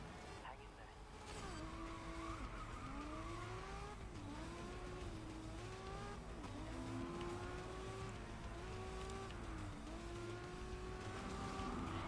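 Racing car engine from the video game Grid Legends drones steadily with rising and falling gear pitch through repeated shifts, loud and continuous, with a voice talking over it.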